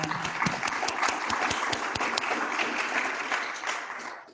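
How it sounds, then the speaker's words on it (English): Applause from a modest group, with sharp individual claps standing out in the sustained patter, which gradually thins and fades toward the end. "we should give them a round of applause"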